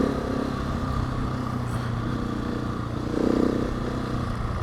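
A new motorcycle in off-road riding mode hums along on dirt with a steady mid-pitched engine drone, swelling briefly as the throttle opens, close and continuous with no talk.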